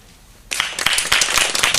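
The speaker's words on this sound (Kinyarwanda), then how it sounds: "bamukomera amashyi" An audience bursts into applause at a dedication ceremony, dense clapping starting abruptly after a quiet lead-in and continuing loud and steady to the end.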